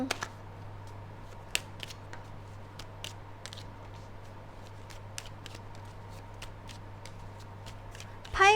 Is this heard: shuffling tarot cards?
yes